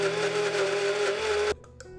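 A blender whirs steadily as it purees soaked lotus seeds with water for a smooth lotus paste, a close humming motor drone that cuts off abruptly after a second and a half, leaving a quiet room with faint knocks.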